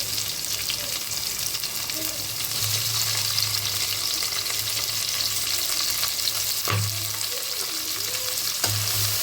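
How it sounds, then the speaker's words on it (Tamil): Tomatoes sautéing in a pan with onions and green chillies, a steady close sizzle and frying hiss throughout, with a couple of sharp stirring knocks of a spoon against the pan. "தக்காளி சேர்த்து கொஞ்சம் வதக்கி விட்டுடலாம்"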